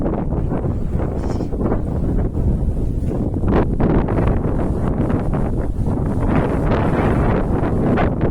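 Strong outdoor wind buffeting and roaring across the microphone in continuous loud gusts, with no voices.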